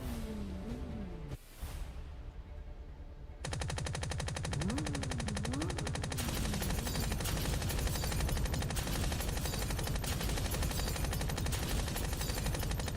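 Enemy gunfire in a video game rattles in rapid, continuous machine-gun bursts, loud and dense, with whooshing shots and game effects layered over it and no talking.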